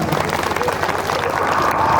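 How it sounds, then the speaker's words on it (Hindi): Applause from a crowd at a religious gathering, a steady wash of clapping at moderate volume that swells slightly toward the end. "जोरदार तालियां।"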